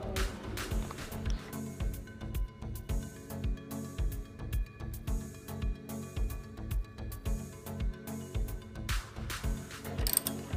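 A ratchet wrench tightens a nut and bolt while a saddle stay is fitted to a Yamaha MT-15 motorcycle, clicking in a steady, rapid rhythm of close, moderately loud pawl clicks throughout, with no voice.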